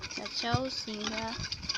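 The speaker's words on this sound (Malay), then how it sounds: "Kacau sehingga gula kasar tersebut larut sepenuhnya dalam air." A spoon stirs coarse sugar into water in a container, with light scraping and clinking strokes under a voice speaking throughout.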